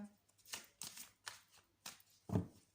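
A deck of oracle cards being shuffled in several quiet, soft riffling bursts spaced about half a second apart, close by and with no voices.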